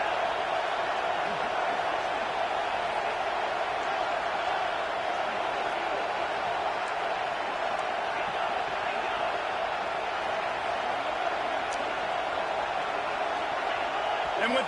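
A stadium crowd roars throughout a football video game, a dense, steady wash of cheering noise with no pauses. A commentator talks over it.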